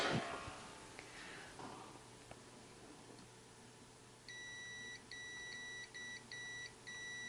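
A multimeter on continuity test beeps against an NES circuit board, a series of short, clear, fairly faint electronic beeps in quick bursts following some quiet handling noise, with no talk.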